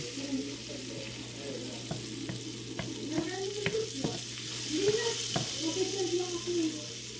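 Oil and margarine sizzle and crackle in a pan, a quiet steady hiss broken by sharp clicks of stirring utensils, with a low background hum and a voice talking over it.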